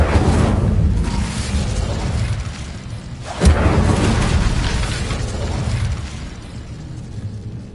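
An Incendio fire spell blasting in the Hogwarts video game, a dense roaring rush of flame with one sharp burst partway through, steady and close.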